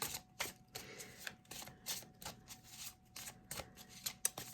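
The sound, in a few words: shuffling tarot cards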